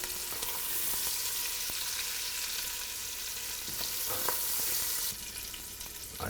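Sausage and pancetta frying in oil in a pan for Tuscan zuppa toscana, a steady close crackling sizzle that runs without a break, with a few light clinks and scrapes from the pan.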